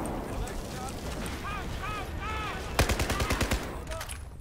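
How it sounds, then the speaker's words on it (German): Battlefield 4 gunfire rings out as a rapid burst of sharp, close shots in quick succession, set against a busy backdrop of game noise with voices in the mix. "Da schießen wir drauf."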